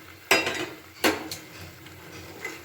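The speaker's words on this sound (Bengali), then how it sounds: "এবার ভেজে রাখা মাছগুলোকে আমি এর মধ্যে দিয়ে দিচ্ছি।" Fried rui fish pieces are dropped into a simmering curry in a pan, producing two clattering utensil-on-pan clinks followed by a softer clink over a quiet background.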